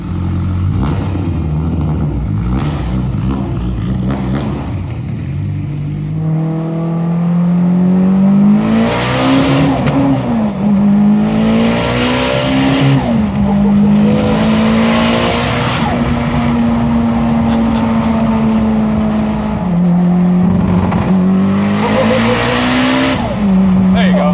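A Nissan R32 GT-R race car engine with anti-lag revs hard and climbs steadily through third gear, loud and close, with sharp popping bursts between pulls.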